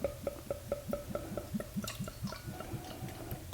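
Goose Island Bourbon County stout glugs from the bottle into its glass in a quick, regular run of close liquid gulps that thin out toward the end, with no voices.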